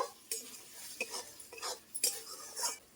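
Spices such as salt, turmeric and red chilli powder being stirred and fried in a pan for a vegetarian okra curry, with several separate scraping strokes of a spoon against metal over a faint sizzle.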